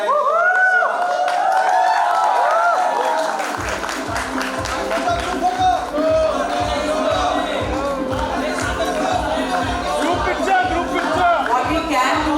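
A large crowd at a Bollywood red carpet event applauds and cheers steadily, loud and continuous, with chatter mixed in, and a rhythmic thumping beat joins partway through.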